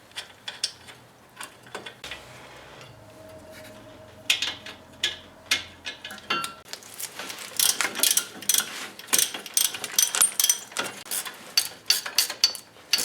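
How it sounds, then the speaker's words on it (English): Ratcheting gear wrench tightening a brake caliper bracket on a 1995 Toyota Tercel, starting with quiet handling noises and then a close run of rapid metallic ratchet clicks in uneven bursts, with no voices. "Again, love these gear wrenches."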